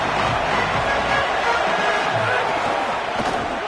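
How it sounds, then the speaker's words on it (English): Stadium crowd noise from an NCAA college football video game: a steady, dense roar of spectators filling the whole moment, loud and continuous with no pauses. "This crowd ready to make its presence known."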